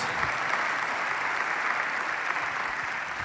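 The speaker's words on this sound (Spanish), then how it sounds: "Denle un aplauso al Señor" A Spanish-speaking church congregation applauds, a steady, hissing roar of many hands clapping together that fills the room evenly from start to finish without talk.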